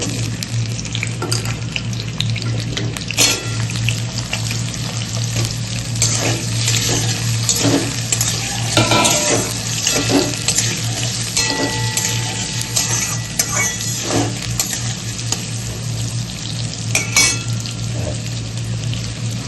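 Potatoes frying in a pan with whole cumin seeds, giving a steady, dense sizzle with crackles and occasional stirring scrapes throughout, no voices.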